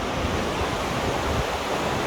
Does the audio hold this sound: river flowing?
yes